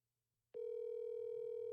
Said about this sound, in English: I can hear it ringing.